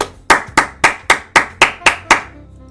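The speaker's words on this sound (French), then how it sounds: "Tout le monde n'a qu'à applaudir." Eight sharp hand claps in a steady, evenly spaced rhythm, close and loud, each with a short ringing decay, ending in quiet.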